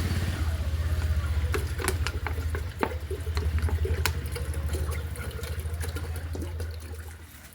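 Water pours and trickles while pesticide is mixed for a garden spray, a steady splashing stream with a few clicks and knocks over a low background hum.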